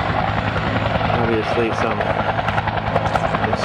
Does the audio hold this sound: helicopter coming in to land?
yes